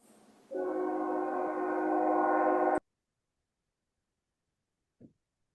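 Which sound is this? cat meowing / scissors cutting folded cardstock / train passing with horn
train passing with horn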